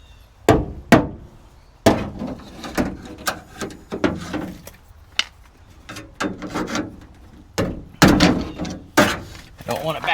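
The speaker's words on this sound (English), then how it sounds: "hold it like this and swing my hammer at the same time" Hammer blows ring out during classic car window felt replacement, a dozen or so sharp metallic strikes of uneven spacing and force, close and loud, with clusters of quicker taps near the end.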